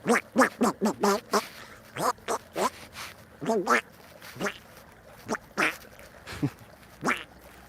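A person imitates Donald Duck, producing a string of raspy, buzzing quacks in irregular bursts, close and loud, with a few short pauses between them.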